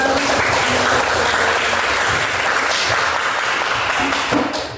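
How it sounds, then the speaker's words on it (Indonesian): A classroom of students applauds together, steady and fairly loud, the clapping sustained throughout and tapering slightly at the end. "Tepuk tangan dulu untuk kita."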